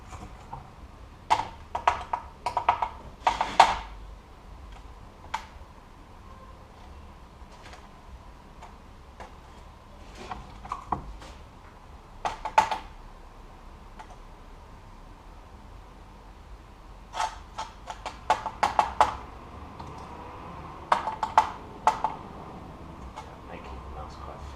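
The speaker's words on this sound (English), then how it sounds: "I'm going to just use the spoon to create this texture." Spoon dabbing and scraping mud paste on a surface to build texture for mud art, scattered clusters of close tapping clicks amid quiet stretches with low background hiss.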